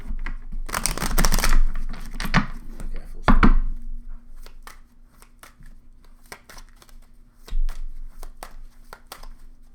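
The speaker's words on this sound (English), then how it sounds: "One more shuffle." A deck of tarot cards is shuffled by hand, first a loud burst of riffling and handling, then scattered soft taps and snaps of cards being set down, close and alone.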